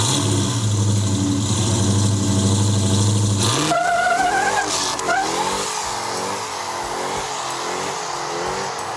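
A powerful supercharged Mopar engine idles with a deep rumble, then revs hard with a rising supercharger whine, climbing and settling into a loud, sustained roar nearby.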